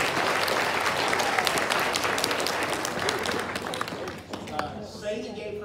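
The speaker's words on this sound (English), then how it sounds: "You can clap, too." A church congregation at Sunday morning worship claps for a baptism, loud sustained applause that fades out toward the end as talk returns.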